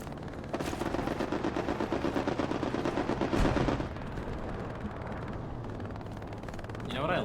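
Dense bursts of automatic gunfire in the World War II shooter Hell Let Loose, rapid rattling volleys that pound steadily for several seconds, then a heavy crack and more scattered distant shots behind them.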